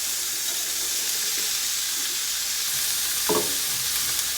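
Garlic and arborio rice sauté in a pan over medium-low heat for pancetta risotto, giving a steady close sizzle with a short scraping stir near the end.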